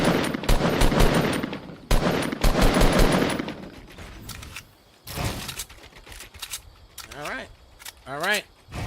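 Rapid automatic gunfire in a video game, dense bursts of machine-gun shots up close, then sparser single shots as someone talks over the action.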